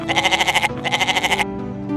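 Two goats bleat in quick succession, each call a loud, pulsing, wavering cry lasting well under a second, close by and with no talk around them.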